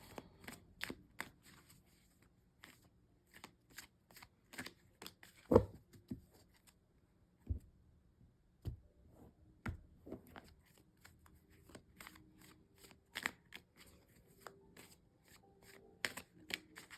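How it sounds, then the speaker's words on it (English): Tarot deck being shuffled by hand in a run of crisp riffling and patting bursts with short pauses between them, close and clear, with no talking. "Let's just give them a good shuffle."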